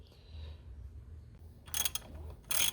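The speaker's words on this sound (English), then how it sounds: "now I can go back to the wrench and socket to tighten it up" A wrench and socket tightening a bolt during an idler and tensioner pulley replacement on a Chevy G-Van's 5.7 350 small-block, giving two short, quiet bursts of ratcheting clicks over faint background hum.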